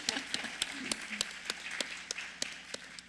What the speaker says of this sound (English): here's where we give the applause